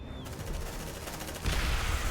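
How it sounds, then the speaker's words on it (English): Grenade launcher fire in the video game Aliens: Dark Descent: a dense, rumbling barrage of game gunfire that holds steady, then swells into a louder, heavier blast-like burst partway through, with no talk. "I'm gonna use a grenade launcher, I think."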